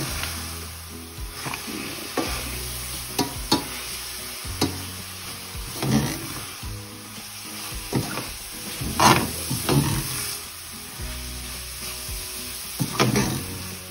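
A spoon scrapes and stirs vermicelli sewaiyan with milk in a pan, producing irregular clinks and scraping strokes over a soft sizzle, close up with no talk.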